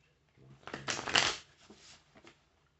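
Tarot cards being cut and shuffled, a close, brief flurry of papery riffling that peaks in the middle and trails off into a few soft taps, with no talking.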